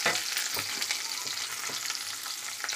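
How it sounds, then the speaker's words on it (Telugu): Cardamom, cinnamon and bay leaf fry in hot oil with a bright, steady sizzle, broken by a few soft stirring scrapes. "యాలక్కాయలు, దాల్చిన చెక్క, బిర్యానీ ఆకు వేసుకోవాలి. వేసుకొని లైట్గా ఫ్రై అవ్వాలి రెడ్ కలర్లో."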